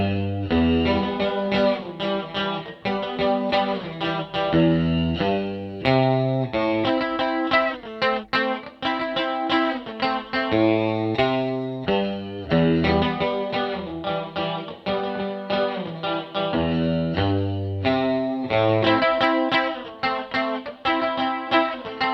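Sustained guitar playing drenched in a big, roomy Eventide large-studio reverb, notes ringing and blending into each other, loud and continuous.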